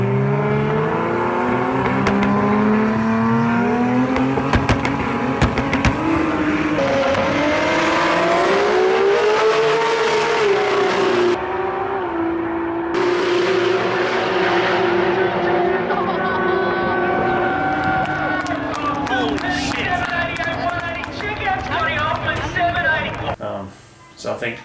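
Boosted drag race car running at 40 to 41 pounds of boost on a quarter-mile pass, its engine roaring loud and sustained for about twenty seconds, pitch climbing through gear changes before fading out, with voices heard over it.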